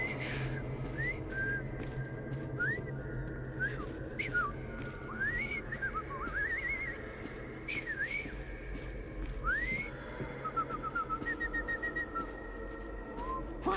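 A character whistles repeatedly in Assassin's Creed Syndicate, with short rising and falling tuneful notes over a steady background of ambient game noise.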